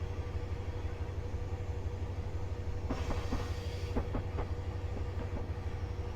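A Class 57 locomotive rolls along rails in Train Simulator Classic between Bristol Temple Meads and Cardiff, a steady low engine drone with a brief cluster of rhythmic wheel clacks over rail joints midway.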